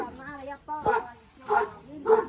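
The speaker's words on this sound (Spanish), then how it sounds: "No muerden su perrito." A small dog barks three times in short, evenly spaced bursts at close range, heard over people talking in Spanish.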